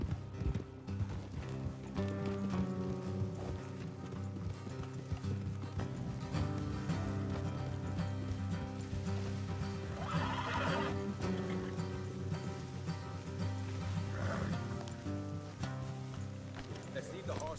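Horses whinny and hooves clop in Red Dead Redemption 2 under a dense, busy mix of rain and ambient game sound, continuous throughout.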